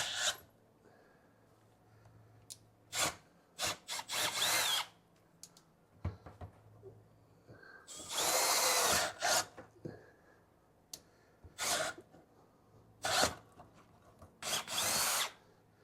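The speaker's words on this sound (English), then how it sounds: "drill 1-inch holes with self-feeding auger bits" Cordless Milwaukee M12 subcompact brushless drill boring 1-inch holes with a self-feeding auger bit in low speed, heard as several separate bursts of grinding, rasping drilling of varying length with quiet pauses between them.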